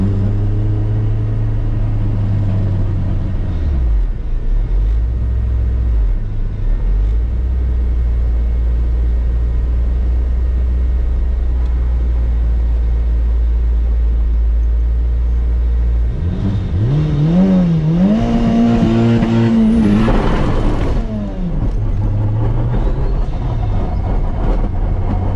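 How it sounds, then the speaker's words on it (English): An all-wheel-drive Honda CRX with a damaged transfer case drives along loudly, a steady low mechanical drone and whir running throughout, with a rising, wavering grinding surge late in the run. "the car still drove, but just makes a ton of noise"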